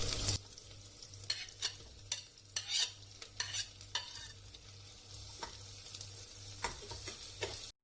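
Ginger garlic paste sautéing with curry leaves for mushroom biryani cooked in a pressure cooker, a soft sizzle punctuated by a series of quick spoon scrapes and taps against the pan, quiet and close, with no voices.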